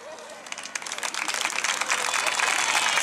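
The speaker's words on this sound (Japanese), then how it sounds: "手拍 子手拍子でお願いします" Audience clapping along at a children's festival dance contest performance, a crowd's applause swelling from scattered claps into steady rhythmic clapping, loud and close, with a voice speaking over it at the start.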